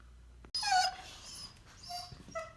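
A dog indoors lets out high, thin whimpers and short yips in a quiet room, with a brief clatter just before the whining starts.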